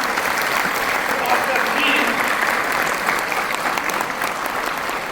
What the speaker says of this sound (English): will you like to clap for NIPM in my style?